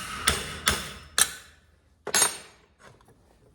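A hammer strikes a punch on hot steel laid over the pritchel hole of an anvil while making an ulu knife, four sharp ringing blows at uneven intervals followed by a couple of fainter taps, close and loud.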